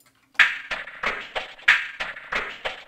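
A reversed foley loop from a sample pack, gritty and crunchy like chains: a rhythmic series of rising, swelling scrapes and clanks about every third of a second, close and dry, alone.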